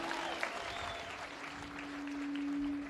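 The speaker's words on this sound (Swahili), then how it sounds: "Tuwapigie makofi mazuri." A church congregation claps during a live sermon, a brief steady burst of applause from a crowd filling the room at moderate volume.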